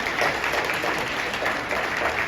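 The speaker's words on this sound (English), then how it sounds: "Y'all give yourself a round of applause." A live audience at a sing-along breaks into loud, dense applause that fills the whole clip steadily without pause.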